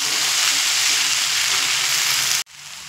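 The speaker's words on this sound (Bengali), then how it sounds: "দিয়ে মিডিয়াম ফ্লেমে আবারও 1 থেকে 2 মিনিট মতো একটু নাড়াচাড়া করে নেব।" Sago pearls are stirred and fried in a pan over a medium flame, making a loud, continuous close sizzle that cuts off abruptly near the end.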